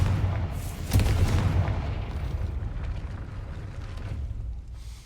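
A fire-blast spell detonates in the Hogwarts Legacy fantasy game, a deep booming burst that swells near the start and then rolls off into a long, dull rumbling decay.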